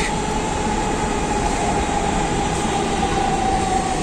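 A metro train runs along an elevated track above a residential area of Pallabi, Dhaka, making a steady, loud, continuous rumble with a faint high whine held throughout, and no voices.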